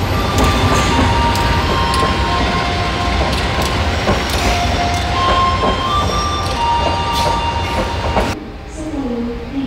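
A parcel train passes close by on the railway with a loud, continuous rumble and rhythmic wheel clacks and squeals, then the noise drops away abruptly near the end.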